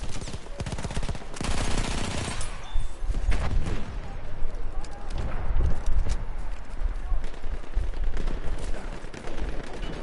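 Battlefield 1 gunfire crackles in rapid bursts and scattered single shots, fairly close and dense throughout, with other game noise underneath.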